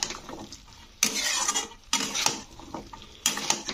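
Spices and drumstick vegetables stirred in a pan, a utensil scraping and clinking against the metal in three separate bursts with quiet gaps between, close up and with no talk.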